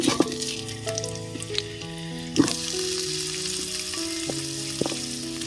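Potatoes fry in a pan with a steady, close sizzle and a few stirring knocks, heard under background music.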